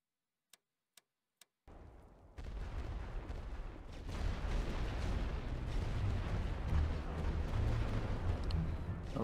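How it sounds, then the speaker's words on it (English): Artillery fire in the video game The Great War Western Front: after a few sharp ticks, a loud, dense wall of booming barrage and rumbling explosions rolls on continuously, with no talking. "Right, let's get this artillery going."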